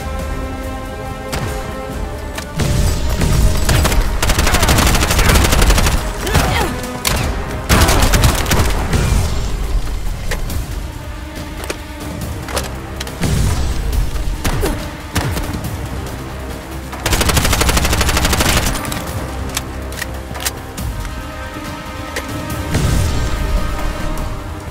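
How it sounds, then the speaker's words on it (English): Heavy gunfire barrage in the video game Bright Memory Infinite, loud and sustained with dense overlapping shots and booms, swelling in repeated waves over a busy game soundtrack. "this barrage is too dangerous"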